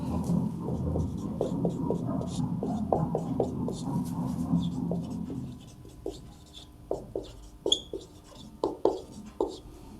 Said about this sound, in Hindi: तो लिखेंगे दिए गए समीकरण निकाय।